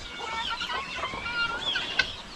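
Many small chicken chicks peep together in high, overlapping chirps, close and continuous, over a faint farmyard background.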